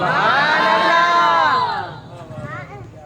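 A large crowd at a Naat gathering shouts Subhan Allah together in one loud, sustained unison cry that fades into scattered voices.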